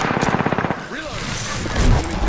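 Rapid automatic gunfire in Apex Legends, a fast rattling burst up close, then scattered shots and game effects with a voice speaking.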